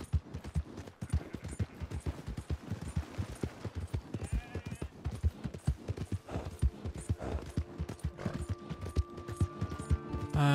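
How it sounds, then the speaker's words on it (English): Rapid, rhythmic hoofbeats of a galloping horse in the video game Red Dead Redemption 2 pound steadily and loudly, with a few brief metallic chimes and tones sounding over them toward the end. "Galloping causes a horse stamina to drain."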